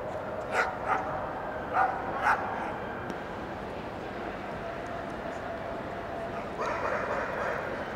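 A dog at a Crufts rally event, Inter-Regional Level 6, gives a few short barks near the start and just before the two-second mark, heard over steady crowd and hall noise in a large indoor arena.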